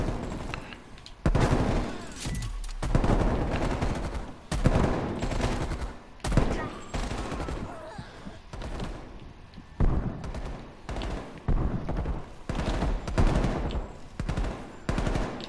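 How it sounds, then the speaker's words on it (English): Repeated rifle shots crack out in Call of Duty: Black Ops Cold War, dense bursts of loud gunfire at irregular intervals over about fifteen seconds, with no voices over them. "See if we can do some longer range sniping now"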